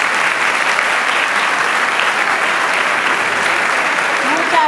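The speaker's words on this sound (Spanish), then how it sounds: "vamos a recibir con un fuerte aplauso a Mika" An audience at a local event in Capitán Sarmiento, Argentina, applauds with dense, steady clapping that stays even and loud throughout.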